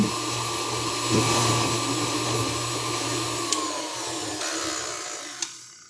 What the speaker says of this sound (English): So I have some butter in this mixer, and we're going to go ahead and turn this on and beat this around a little bit.